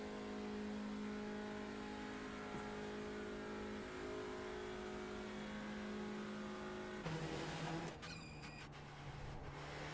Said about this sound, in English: This is going to be a long time in a car that sounds this bad.